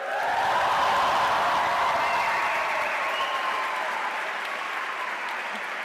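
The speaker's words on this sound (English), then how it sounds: "let's show the Madrid campus how we're feeling, and let's cheer to get a sense of your energy." Crowd at a university welcome event cheering and applauding, a loud sustained wash of clapping and shouting that swells at the start and holds steady throughout.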